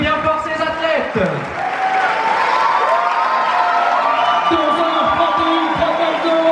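Spectators at the Sierre-Zinal mountain race finish applaud and cheer the athletes, a steady roll of clapping mixed with scattered shouts and whoops as an announcer talks over the crowd.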